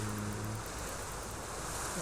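Sea waves washing onto a beach in the video game Virtual Villager, a steady broadband surf hiss that holds even and continuous, with no talking.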